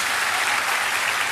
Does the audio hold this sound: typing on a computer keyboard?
no